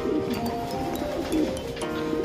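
Pigeons in a loft give soft, repeated cooing calls close by, with light fluttering and movement around them.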